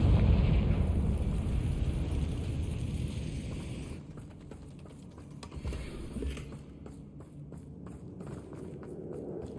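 The Confringo fire spell detonates in Hogwarts Legacy, a loud low blast and rumble that fades over several seconds into softer crackling and scattered impacts.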